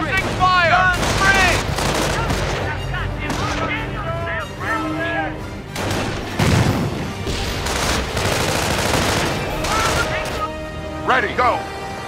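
Dense machine-gun suppressing fire and scattered gunshots in the World War II strategy game Company of Heroes, with explosions mixed in and shouted voices over the loud, continuous battle.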